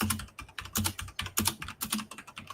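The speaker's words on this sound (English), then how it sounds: "Somebody is doing some typing." Someone typing on a computer keyboard, a quick run of clicking keystrokes in uneven bursts, close and clear with no speech over it.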